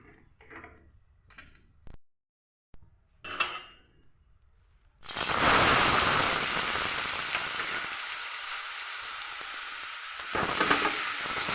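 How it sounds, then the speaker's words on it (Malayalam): Jackfruit chips frying in coconut oil for idiyan chakka upperi, a loud, steady broadband sizzle that starts abruptly after a few quiet clinks and stirring sounds and holds continuously to the end. "പിന്നെ നമുക്ക് വറുത്തിടാം."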